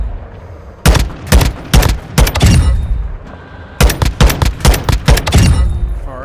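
AUG 5.56 rifle fired on semi-auto in Modern Warfare 2, two loud close volleys of about five evenly spaced sharp shots each, separated by a short pause.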